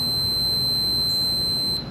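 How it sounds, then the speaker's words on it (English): A multimeter's continuity-test beep sounds as a steady, loud high-pitched tone that holds for nearly two seconds before cutting off, with no talking. "if I get that beep, I know those 2 wires go together"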